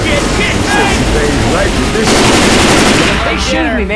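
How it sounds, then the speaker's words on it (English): Sustained, loud automatic gunfire in the video game Left 4 Dead 2, a dense rattling stream of shots along the Parish level, with players' voices talking over it. "They shooting me, man. God damn it. Stop shooting me."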